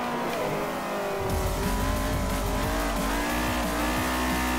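A Mercedes race car in Forza Motorsport 4 roars at high revs, its engine note climbing and shifting while tires squeal through corners, loud and continuous with no talking.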